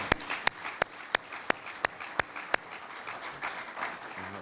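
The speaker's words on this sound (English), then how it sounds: "that's a round of applause right there." Applause at a city's state of the city address, sparse and fairly quiet, with a few sharp, evenly spaced claps standing out over a soft background of clapping.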